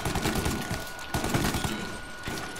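Gunfire in the video game Mafia: Definitive Edition, several loud irregular volleys of shots overlapping in a close, busy firefight with no voices.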